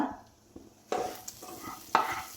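Fried fish pieces going into a pan for fish pickle, with a few sharp clatters as pieces land and a soft sizzle rising after each drop.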